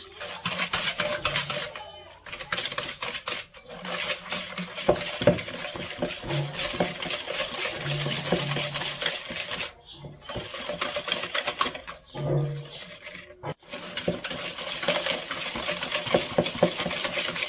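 Ingredients whisked briskly in a bowl, a steady clinking scrape of whisk against the sides running continuously at close range, with a few short pauses.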